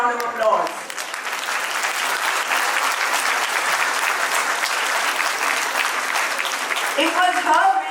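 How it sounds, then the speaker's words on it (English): Audience at a school musical production applauding a teacher: a full, loud burst of crowd clapping that swells in quickly and holds steady for several seconds, with brief voices at the start and end. "Ma'am deserves a really, really loud round of applause."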